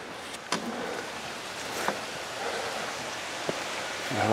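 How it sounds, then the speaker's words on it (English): Steady water runs in an aquaponics greenhouse, a continuous broad rushing wash with a few faint clicks and knocks on top, fairly quiet and unchanging throughout. "I hear water running, of course."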